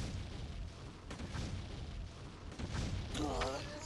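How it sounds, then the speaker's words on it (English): In the video game Abomination: The Nemesis Project, a dense rumbling blast fills the scene, with a low, noisy roar lasting several seconds and a brief raised voice near the end. "poor civilian, he got just caught up in the explosion radius"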